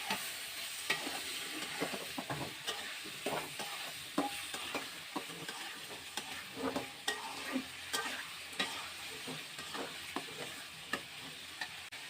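Chopped onions fry in a pan for a potato and tomato curry, making a quiet, continuous sizzle with frequent small crackles and light stirring clicks throughout.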